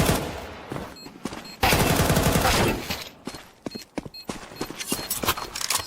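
Rapid SMG bursts and gunshots in Counter-Strike 2 during a pro esports match, sharp clustered firing with footsteps and game ambience in between.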